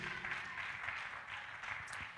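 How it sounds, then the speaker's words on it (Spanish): A church congregation applauds steadily, a dense wash of many hands clapping at once that holds an even level throughout, with no voices standing out above it. "Denle un aplauso al Señor Jesucristo."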